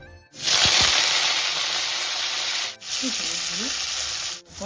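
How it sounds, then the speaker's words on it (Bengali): Cabbage pakoda frying in hot oil, a loud steady sizzle and hiss that briefly drops out twice, with faint clinks beneath the constant crackle. "মানে আপনি দেখছেন বাঁধাকপির বড়াটা আমি দিয়েছিলাম, তখন এটা ভাজা আমি এটাকে নামাই রাখছি।"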